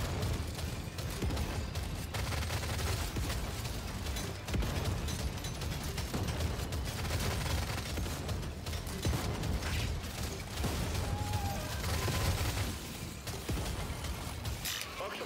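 Rapid mechanical clatter and crackling gunfire from an automated turret in the video game Deep Rock Galactic Survivor, a dense continuous barrage of game combat effects running throughout with scattered impacts and a voice talking over it.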